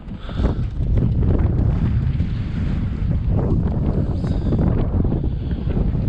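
Strong wind buffets a sailboat, roaring steadily across the microphone in loud, continuous gusts with low rumbling and no speech.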